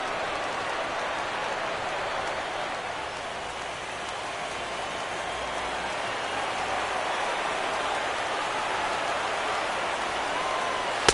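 Steady broadband rain falls across a baseball stadium during a New York Mets at Washington Nationals postseason game in MLB 17 The Show, a continuous even hiss with no talk over it.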